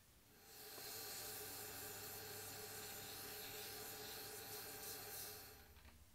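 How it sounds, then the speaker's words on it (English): Resin being wet sanded with fine 1200 grit sandpaper, a faint, continuous hissing rub held for several seconds close up, tapering off at the end without speech. "I've just got 1200 to go and then the sanding will be finished."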